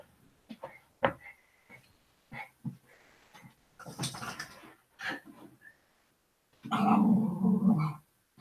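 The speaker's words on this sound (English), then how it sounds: "That's a Pomeranian growling in the background." A Pomeranian growls in several short rumbling bursts near the microphone, with a longer, louder growl toward the end, between quiet pauses in an indoor room.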